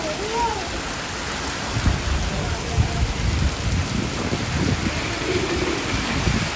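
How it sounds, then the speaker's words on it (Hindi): Heavy rain whipped by strong gusting wind, with a steady dense roar of drops and thunder rumbling low underneath, loud and close throughout. "बाप रे बारिश उड़ जा रही है रे, बारिश की बूंदें उड़ जा रही है।"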